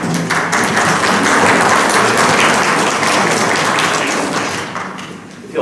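A church congregation applauding its trustees and property committee, dense steady clapping from many hands filling the room for several seconds before tapering off.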